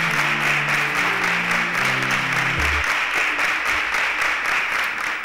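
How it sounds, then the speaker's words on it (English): A studio audience at a televised talent show applauds with steady, dense clapping that carries on throughout, over a fading low tone at the start. "A round of applause for them as they exit the stage."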